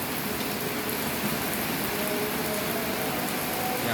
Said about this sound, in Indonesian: Ternyata hari hujan.